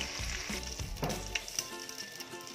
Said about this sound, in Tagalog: pwede na po itong tanggalin para makapag-prito naman po tayo ng ating iba pang ingredients